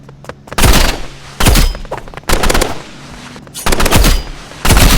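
Gunfire from the video game Rivals: several loud, close bursts of automatic fire, each lasting under a second, separated by short gaps.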